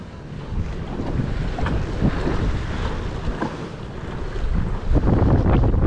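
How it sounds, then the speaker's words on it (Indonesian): Strong wind roars steadily across a microphone at sea during kayak fishing off Melaka, with buffeting gusts, water splashing and waves washing around the boat throughout, no talking. "angin kuat. Kuat sangat."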